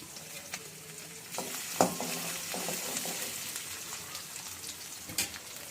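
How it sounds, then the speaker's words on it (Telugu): Chili flakes and garlic frying in hot oil in a pan for garlic egg fried rice, a soft steady sizzle with scraping stirs and a few sharper clinks of the spoon, fairly quiet and close, without talk. "ఇప్పుడు మనము ఈ చిల్లీ ఫ్లేక్స్ అండ్ గార్లిక్ వేసి మంచిగా కలిపెడుతూ ఉందాము"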